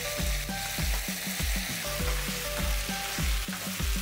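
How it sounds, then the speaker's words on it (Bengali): Vegetables fry with ginger and radhuni paste for Bengali shukto, a loud steady sizzle broken by regular scraping stirs of a spatula, about two per second, with no voices. "সবজিগুলোর সাথে ভেজে নেব"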